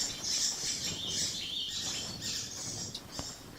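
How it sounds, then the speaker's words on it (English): Birds chirp and tweet in a forest ambience in the medieval video game Kingdom Come: Deliverance, with repeated high calls running steadily over a soft low background and no talking. "And there's all the birds, yeah?"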